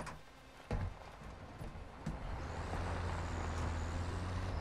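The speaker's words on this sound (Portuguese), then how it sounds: "Olha o caminhão, dona Sônia." A truck in the video game Call of Duty Warzone DMZ drives close by: a low engine rumble builds and holds steady, with a sharp air-brake-like hiss near the start and a few thuds.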